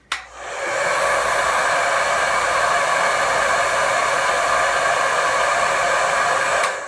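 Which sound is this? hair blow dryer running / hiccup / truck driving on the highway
hair blow dryer running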